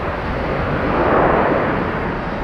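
A plane at Boston Logan airport gives off a steady, loud, broadband engine roar that holds evenly through the whole stretch, with no voices over it.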